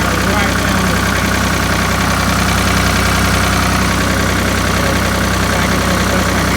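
A 4000 tractor engine runs steadily and loudly as the machine drives down a street, its low, constant rumble filling the whole stretch with no change in pace.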